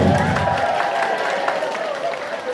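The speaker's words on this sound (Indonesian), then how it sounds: "Nah, tepuk tangan dulu." A crowd claps and cheers in a dense, sustained burst of applause that slowly fades.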